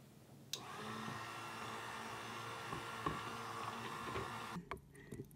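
An electric mixer runs on low through olive oil soap batter, a steady close whir with a faint churning texture, starting abruptly and cutting off near the end, no voices.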